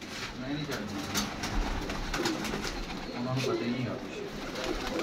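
Pigeons kept by a pigeon fancier coo steadily and close by in a soft repeating murmur, with voices talking in the background throughout.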